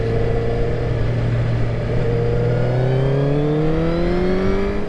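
A high-mileage Suzuki GSX-R1000 sport bike engine accelerating along a sweeping road, a loud, close, steadily rising tone that climbs smoothly through the revs.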